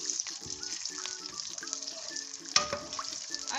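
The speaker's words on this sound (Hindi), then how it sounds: "अब हम इसको थोड़ा सा फ्राई कर लेंगे अदरक को।" Julienned ginger fries in a karahi pan, a close, continuous crackling sizzle with occasional stirring clatter and one sharp clink near the end, no talking.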